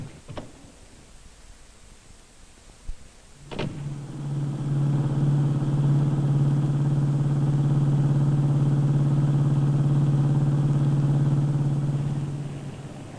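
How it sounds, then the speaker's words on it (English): A 1954 farm family car starts up with a sharp click, then its engine settles into a loud, steady low drone as it drives along, holding evenly before easing off slightly at the end. "We all piled in the car and drove to town."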